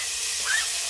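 Tomato dropped into hot butter in a pan while cooking bitter melon, giving a steady close hiss of sizzling with a brief brighter rise midway, no voices.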